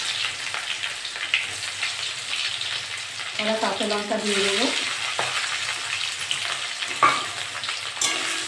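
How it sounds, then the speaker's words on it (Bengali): Onion and green chilli frying in hot mustard oil after whole cumin, a steady close sizzle with stirring clatter throughout, while a person talks over it. "জিরেটা ভাজা হয়ে গেছে, আমি এবার পেঁয়াজ দিয়ে দেবো।"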